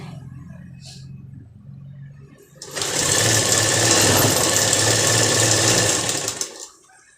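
Sewing machine stitching a lined salwar, starting after a quiet stretch and running in a steady loud whir for about four seconds before stopping.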